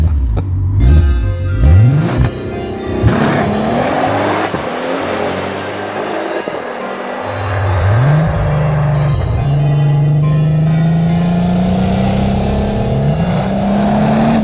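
A Volkswagen Passat R36 with a turbocharged 3.6 FSI VR6 engine revs repeatedly, its loud, close engine note climbing in pitch several times before holding a sustained high drone.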